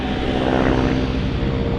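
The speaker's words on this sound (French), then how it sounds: "Les moteurs de l'avion" A steady, loud roar of airplane engines during takeoff with a deep droning hum, heard continuously without voices.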